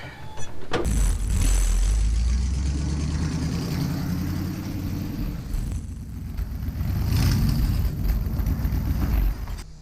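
Tom Seller's early Ford coupe, just fitted with a swapped transmission, starts up and drives with a loud, low engine rumble that swells and settles over several seconds, close by, no voices.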